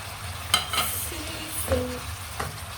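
Cauliflower going into a pan of frying mixed vegetables for ginisang gulay, with quiet sizzling under a few soft clinks and stirring scrapes.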